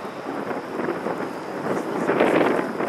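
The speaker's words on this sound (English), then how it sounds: "Hear the thunder? Thunder is unique with a tornado." Deep, continuous rumbling thunder from a tornado-producing storm near Ada, Oklahoma, with steady rain noise, building slightly louder toward the end and heard outdoors without talk.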